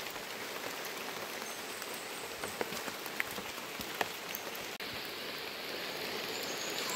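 Steady rain falling on a surface in the mountains, a dense even hiss with scattered drips, continuous and moderately loud.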